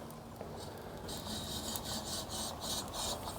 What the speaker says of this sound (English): This stone, that's the rubbing of the stone, that's kind of bugging me.